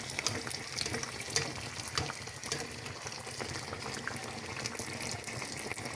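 Sfenj dough fries in hot oil, a soft steady crackling sizzle with faint pops, quiet and continuous with no voices.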